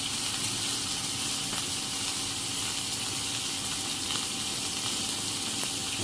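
Bacon lardons fry in a pan with a loud, continuous, dense sizzle that holds steady from start to finish, close up and with no voices over it.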